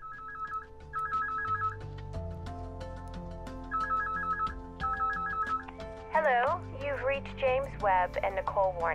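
Repeated electronic phone ringtone bursts from World in Conflict: Soviet Assault, pulsing in short trills over a low sustained musical score, then giving way to a voice on a voicemail greeting.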